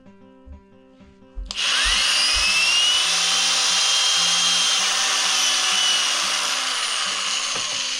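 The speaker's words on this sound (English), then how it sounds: "sometimes I move the drill around just a little bit, and that helps me to make the hole just a little bit bigger" A power drill bores a hole into a plaster figure, starting after a second of quiet background music and then holding a loud, steady, close whine and grind to the end.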